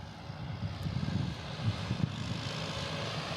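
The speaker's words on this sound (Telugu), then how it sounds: "ఇప్పుడు ట్రాక్టర్ వస్తుంది చూడండి." A tractor engine rumbles on an onion farm in New Zealand, a low steady drone at moderate distance holding throughout with slight swells in loudness.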